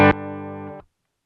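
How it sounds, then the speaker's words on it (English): A single guitar chord through a Behringer Chorus Symphony pedal's preamp with soft clipping, struck sharply and held, mildly distorted, for under a second before being cut off into silence. "Now, you've got some soft sounding clipping"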